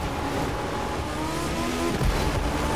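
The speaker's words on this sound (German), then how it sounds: "Klar, Motorrad. Das hat natürlich gute Beschleunigung." A motorcycle accelerates hard in the racing game The Crew 2, its engine note climbing steadily in pitch, loud and close, ending in a thump near the end.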